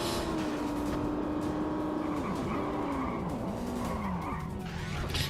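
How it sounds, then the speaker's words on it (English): Small RC car driving off in the video game 007 Everything or Nothing, a continuous whining motor with repeated sliding pitch swoops and skidding tire noise, fairly loud and close, with no talking. "Got a little RC car. Off he goes."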